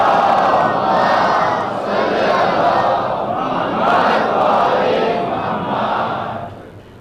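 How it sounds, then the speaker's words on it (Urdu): A large crowd recites salawat together in loud, rhythmic unison at a Muharram majlis, several swelling phrases echoing through a hall before fading. "ایک بلند آواز سے صلوات پڑھ دیں"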